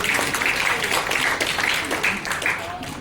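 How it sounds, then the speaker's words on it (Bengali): Audience applause at an award ceremony, as a third-place performance award is presented, rises as a steady, crowded clapping with voices mixed in throughout. "জোরে একটা করতালি।"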